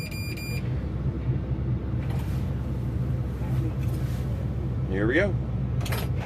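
A Volvo EC160 diesel excavator with about 2,300 hours, cold started outdoors at around 25 degrees, idles with a steady, close, low rumble and a faint mechanical clatter. Someone speaks briefly over the engine.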